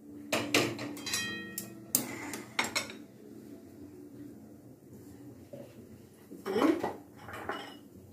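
Cooking utensils and a bowl clatter and clink during paneer rice preparation, with sharp metallic knocks in a cluster at first, then scattered scrapes and a final burst of clanks, close by.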